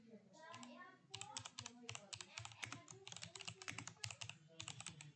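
Rapid, irregular clatter of a computer keyboard as a comment is typed in VS Code, close and steady for several seconds, with a soft voice murmuring faintly underneath.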